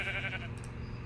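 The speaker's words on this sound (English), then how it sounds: "Oh, there's sheep." Sheep bleating in Minecraft, a steady wavering animal call up close near the start that fades into the game's low ambient hum.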